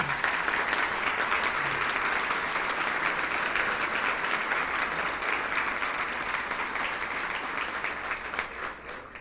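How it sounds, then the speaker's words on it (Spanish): An audience at a public policy research award ceremony in Bogotá applauds the Luis Carlos Sarmiento Angulo prize team. Steady, full clapping from many hands continues for several seconds and fades gently near the end. "Un fuerte aplauso."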